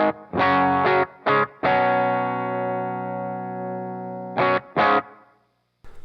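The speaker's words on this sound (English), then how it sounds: "I'm going to use my distortion pedal that I usually use" Electric guitar through a ProCo Rat distortion pedal into an Orange Rocker 15 Terror amp plays a few short chopped chords, then one long sustained chord that rings and slowly fades, followed by two more stabs.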